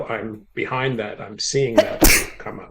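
A sudden sharp sneeze bursts out close by in the middle of a conversation, with people talking just before and after it.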